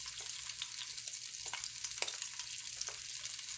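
Salmon searing in a hot pan, a steady close crackling sizzle of frying with occasional louder pops and spatters throughout.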